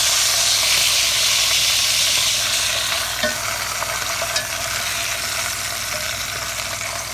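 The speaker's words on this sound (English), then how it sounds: "time to flip this sausage" Hot link sausage frying in a pan for Louisiana-style po-boys, a continuous loud close sizzle and hiss with a few sharp pops and crackles, slowly easing in intensity.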